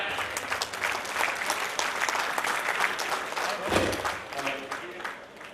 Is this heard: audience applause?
yes